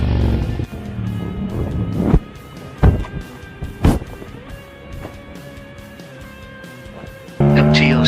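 A Yamaha MT-07 motorcycle misses a turn and runs off the pavement into a grass field, with tonal engine and tire noise broken by several sharp impact thumps and a burst of revving near the end.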